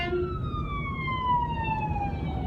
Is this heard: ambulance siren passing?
yes